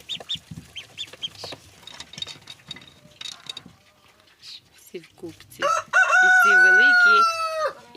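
A rooster crows loudly near the end, a long drawn-out call after some quieter clucking and scattered talk earlier.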